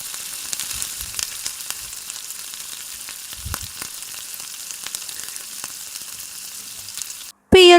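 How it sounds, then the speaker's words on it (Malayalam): Chicken pieces frying in oil in a pan give off a steady, close sizzle with scattered small pops and crackles, and a brief clatter comes near the end. "അപ്പോൾ ചിക്കൻ മുഴുവനും എണ്ണയിൽ നിരത്തി വെച്ച് കൊടുത്തിട്ടുണ്ട്"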